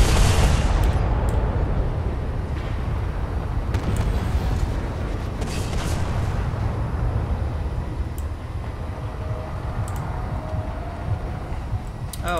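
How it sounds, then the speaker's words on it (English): Repeated cannon volleys from a warship broadside in the space game Space Engineers, a dense run of booming blasts and rumbling impacts that fills the whole stretch, loud and continuous, with brief sharp cracks scattered through. "Oh, I love you, cannons."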